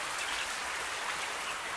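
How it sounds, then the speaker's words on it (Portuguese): Heavy rain falling around a small chicken coop, a dense, even hiss of downpour with no talk, steady throughout. "Tá chovendo muito."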